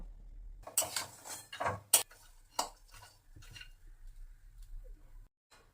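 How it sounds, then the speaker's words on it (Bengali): Dry fruits and soaked dates are dry roasted in an ungreased pan, with scattered utensil clinks and scraping strokes coming in short irregular bursts with quiet gaps between them. "তো এগুলো আমি শুকনো খোলায় জাস্ট একটু হালকা করে ভেজে নেব।"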